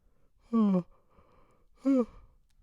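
Two short, breathy yawns with a falling voiced pitch, spaced about a second apart, from a father as he opens the door; close and fairly quiet against a still room.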